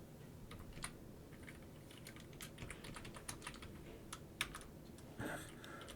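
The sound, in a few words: computer keyboard typing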